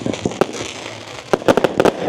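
Bonfire Night fireworks bursting outdoors in a street setting: a sharp bang early on, then a rapid cluster of loud cracking explosions near the end over a steady background rumble.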